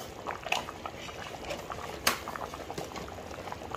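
Chickpea gravy boils in a pot with close, irregular bubbling and gurgling, a few sharper plops standing out over a steady low simmer.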